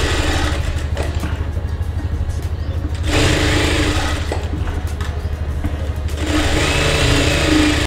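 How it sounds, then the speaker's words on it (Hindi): Sewing machine stitching a baby frock, heard as a loud, rapid, continuous whirring hum that pauses briefly around the middle before running on again, close to the listener. "सिलाई लगा के आप एक पास कर लेना"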